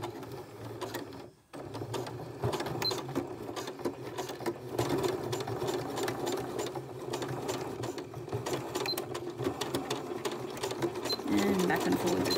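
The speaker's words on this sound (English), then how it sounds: "make sure you're not stitching onto the bodice and you're just stitching through the binding" Sewing machine stitching through the neck binding of a bralette, a steady close mechanical whirr and needle chatter running continuously with a short pause early on, a faint voice talking underneath.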